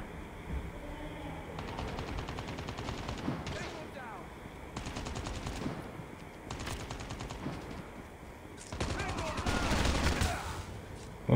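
Gunfire in Call of Duty Mobile: several rapid automatic bursts of rattling shots, each lasting about a second, with a longer louder burst near the end, amid game ambience and no talk.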